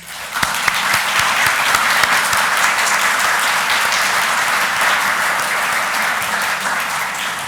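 An audience at a museum exhibition event gives a sustained round of applause, dense steady clapping from many hands that holds for several seconds and tapers slightly at the close.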